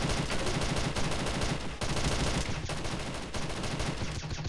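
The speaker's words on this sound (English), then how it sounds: "got a match with an AK going off" Automatic AK rifle gunfire from a PvP video game fight, sustained dense bursts of shots filling the whole stretch with only brief breaks, loud and continuous.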